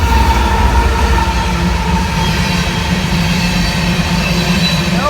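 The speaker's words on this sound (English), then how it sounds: "there's an eastbound coming right now, so we're gonna watch it" Norfolk Southern eastbound freight train rolling past close by at night, a loud continuous rumble of wagons with a faint wheel squeal near the end.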